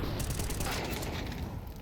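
Gunfire crackles in a Counter-Strike match, a steady, dense rattle of shots blending into a continuous noisy wash.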